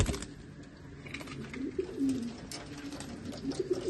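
A domestic flying pigeon coos close by in soft, low, rolling phrases over a few seconds, with no talking.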